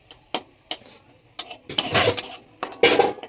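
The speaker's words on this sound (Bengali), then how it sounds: "লো মিডিয়ামে রেখে একটু নাড়াচাড়া করে নেবো" Metal spatula clatter and scraping in a pan of oil with bay leaves over low-medium heat for prawn malai curry come in irregular knocks and a busier stretch of stirring, close and with no talking.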